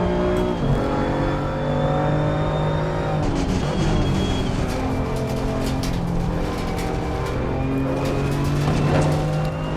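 A race car in Assetto Corsa Competizione screams around the track, its engine holding a loud, steady high-revving tone with gear shifts and pitch swoops through corners and over kerbs, continuous and close.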